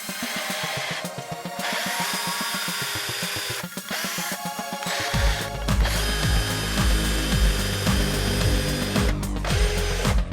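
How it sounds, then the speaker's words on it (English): Power drill boring mounting holes into a wall for a shelf, bursts of whirring motor and grinding bit, close and fairly loud, with short pauses between runs. "So we're just gonna finish drilling into these holes"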